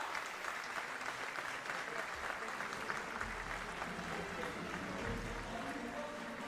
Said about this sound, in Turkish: büyük alkışlarınızla yerlerine uğurluyoruz efendim